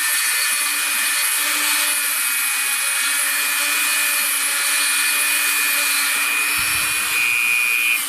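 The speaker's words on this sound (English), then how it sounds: "just slightly move the drill bit around in slight circles" Drill bit grinding a hole through fused glass, a continuous high whine with a steady tone held alone for several seconds, ending with a brief low clunk.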